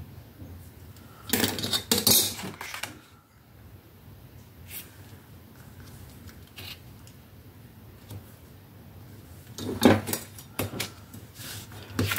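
Paper cut for a scrapbook page, heard as two short bursts of crisp snipping and rustling separated by a long quiet stretch with faint handling noises, close and fairly soft.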